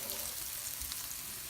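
Softened onions fry in a pot with cooked roast meat, giving a steady, close, dense sizzle with no break.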